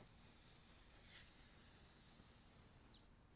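A top dead center whistle tool in an engine cylinder whistles as the piston rises, a thin high-pitched tone in short rhythmic pulses, then a longer steady whistle that falls and fades out at top dead center.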